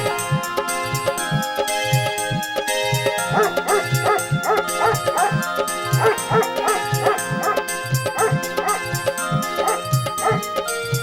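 A dog barks repeatedly in quick, rhythmic bursts over a musical backing, fairly close and loud.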